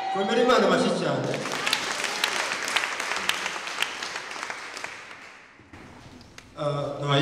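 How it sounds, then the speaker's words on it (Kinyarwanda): A church congregation applauding during a worship service: several seconds of sustained, dense clapping that swells and then fades, with a voice speaking before and after it. "Komera Imana amashyi cyane."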